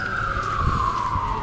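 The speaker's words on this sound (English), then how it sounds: "there's sirens popping up and all that" A single emergency siren wails along a city street in Vancouver's Chinatown, a steady tone gliding slowly downward over a rumbling bed of traffic noise with no voices.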